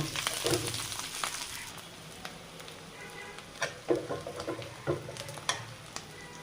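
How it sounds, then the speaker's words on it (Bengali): Parshe fish frying with spinach, chopped onion and green chilli in a pan, a soft continuous sizzle broken by irregular stirring clatters and scrapes, close and unaccompanied by speech. "পাঁচশো মাছ আর পালং শাক পেঁয়াজ কুচি ঝাল কুচি দিয়ে দিলাম ভালো করে ভেজে নেব"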